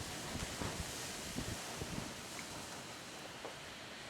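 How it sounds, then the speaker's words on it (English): Strong wind gusts buffet a building, making a faint, continuous broadband rush with a few dull low thumps scattered through it and no voices. "There's gusts of wind that come so strong."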